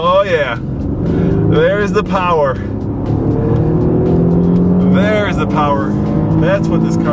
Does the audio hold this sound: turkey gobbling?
no